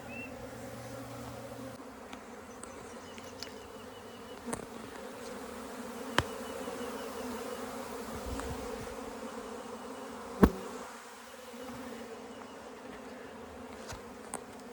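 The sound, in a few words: honeybees robbing excess honey from combs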